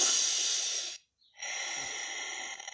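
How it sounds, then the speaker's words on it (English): One long, close breathy hiss of air is drawn in during a shoulder roll stretch, breaks off into a short silence, and then comes again as a second steady breath. No one speaks. "I'm going to add some breath, breathing in on the way up."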